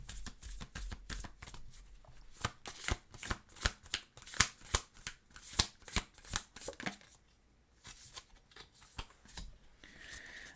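Tarot cards are shuffled and drawn in a brisk run of crisp riffling flicks and slaps, close and clear, followed by a quieter pause and a few softer card movements, with no talking.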